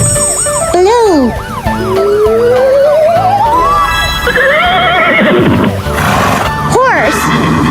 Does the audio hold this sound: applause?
no